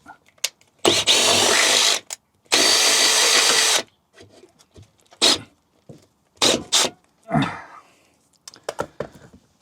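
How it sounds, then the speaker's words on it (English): A power drill whines in two sustained bursts, loud and close, drilling through a Ford Transit Custom van's chassis, followed by scattered clanks, knocks and brief tool noises. "drilling through the chassis of your van and the sides"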